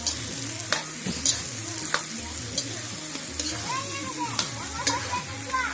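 Pork curry fries in a pan while a spoon stirs it, giving a steady sizzle broken by regular scraping strokes and clinks against the pan, close and alone.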